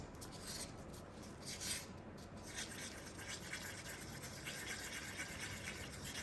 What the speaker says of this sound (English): Scrape off the heavier blue.